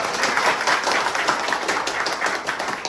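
An audience at a mobile repair training institute event claps for the judges, producing a short burst of brisk, dense clapping at a fairly loud, even level with no speech over it.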